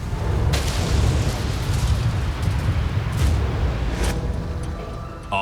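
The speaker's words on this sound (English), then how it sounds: "A vapor cloud explosion occurred almost immediately." A vapor cloud explosion at one of the UK's largest fuel storage depots gives a sustained, heavy rumbling roar with a few sharper bursts, loud and continuous throughout.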